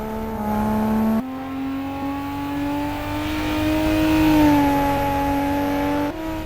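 A Nissan GT-R engine revving in the racing game Assetto Corsa, with a sustained engine note climbing through the revs and shifting at gear changes, loud and close without voices.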